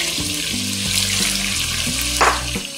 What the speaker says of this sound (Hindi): इसमें हम प्याज का पेस्ट डाल देंगे।